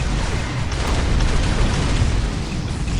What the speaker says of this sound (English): I will fire some missiles in the air